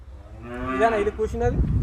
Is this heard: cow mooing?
yes